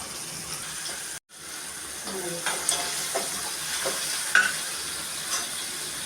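Chopped onion and tomato cooking in a pan in a home kitchen, a soft steady sizzle with occasional scraping stirs and clinks, close and moderate in volume, with a brief dropout early on.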